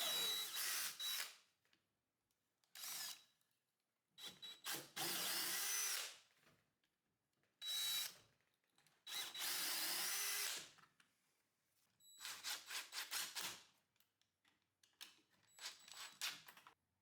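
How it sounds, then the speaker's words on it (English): A power drill runs in repeated short bursts with pauses between, pre-drilling and driving screws into wooden table skirts built from 2x4 lumber, each whir close and sharp. "I pre-drill into the skirts and screw into place."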